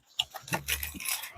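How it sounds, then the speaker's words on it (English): A set of metal stereo removal keys for a 1996 Chevy 1500 truck jingles and clinks in a quick series of close, bright rattles. "Stereo keys coming right up."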